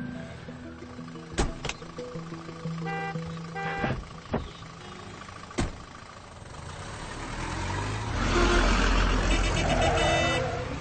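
A bus drives past on a road. A mid-pitched engine rumble idles and swells toward the end, with a few sharp knocks and clatters scattered through it.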